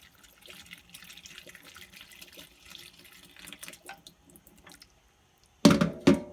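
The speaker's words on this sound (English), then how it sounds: "Take all of the water out." Water is drained from a pot of boiled chicken into a sink as an uneven, trickling splash. After a brief silence, two louder splashing gushes follow.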